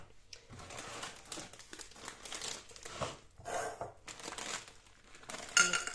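A packet of cheese biscuits being torn open and handled, with steady crinkling and crackling of plastic wrapping in close, uneven bursts and no talking.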